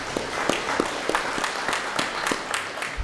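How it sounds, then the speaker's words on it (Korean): A congregation at a Korean Sunday church worship service claps together in a steady, evenly spaced rhythm, moderately loud and filling the room, with no talking over it. "큰 박수로 하나님께"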